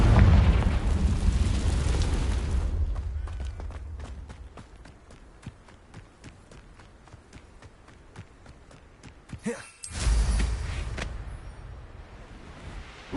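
Hogwarts Legacy fire-blast spell explosions: a loud, rumbling blast at the start fades into a stretch of quick footsteps, then a second sharp, booming burst near the end that trails off.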